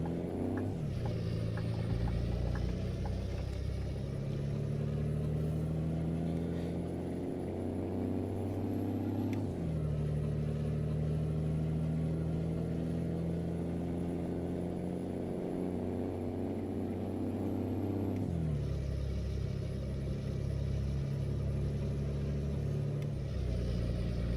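DAF XF Euro 6 truck engine in Euro Truck Simulator 2, a deep continuous burbling diesel rumble pulling a heavy load, with rising pitch through the gears and brief dips at each shift, steady and close throughout.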